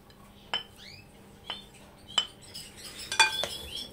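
Salad of falafel, zucchini, tomato and cheese being tossed in a bowl with utensils: a handful of separate clinks and scrapes at a slow irregular pace, growing into a quick rattling cluster near the end, close and fairly quiet.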